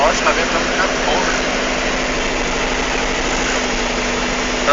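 Aircraft engine running steadily with a constant droning hum and vibration, loud and unchanging throughout.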